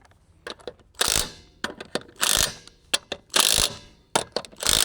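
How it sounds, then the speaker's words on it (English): Bursts of an impact wrench tightening the wheel lug nuts on a Polaris RZR Pro XP, several short rattling hammer runs of about half a second each separated by brief pauses, close and loud with no voices. "we're gonna go ahead and go around one more time with the impact"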